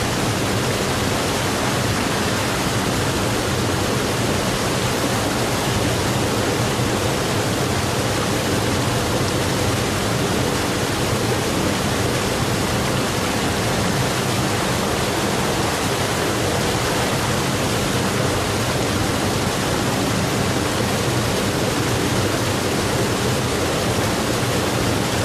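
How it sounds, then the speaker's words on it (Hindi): Fast, heavy flow of cold water swollen after strong rain rushes steadily and loudly, a dense unbroken roar with no voices. "पानी बहुत तेज है और बहुत ज़्यादा ठंडा पानी"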